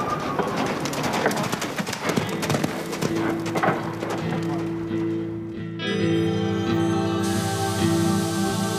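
Horse hooves clip-clop in a steady rhythm amid outdoor bustle, with birds cooing nearby and a sustained tonal hum joining partway through.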